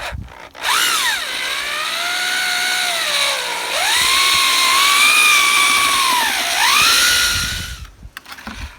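A power drill runs steadily for several seconds while mixing hypertufa for a garden pot, its whine dipping twice under load and then recovering, loud and close, with no talking.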